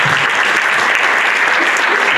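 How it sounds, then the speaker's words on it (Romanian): Audience applause at a Bucharest media and marketing business conference held at a hotel, a dense, steady wash of clapping filling the whole stretch at constant loudness. "Haideți să-i aplaudăm."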